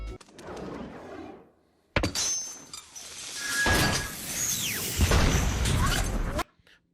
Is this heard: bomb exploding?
yes